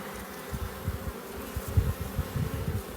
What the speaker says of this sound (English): Okay, bees.